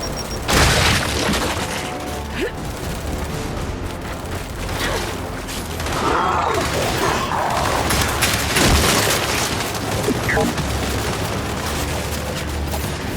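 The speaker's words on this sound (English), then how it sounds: "Throwing frag!" A frag grenade goes off in the shooter Gears of War 5 amid a dense wash of gunfire and booming combat, with loud bursts and crackling debris layered through the whole stretch.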